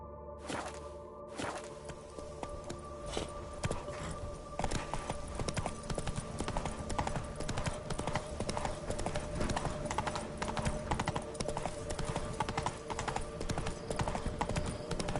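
Roach the horse gallops in The Witcher 3, a steady rapid clip-clop of hooves running on without a break, with a faint whip crack early on and occasional game effects underneath.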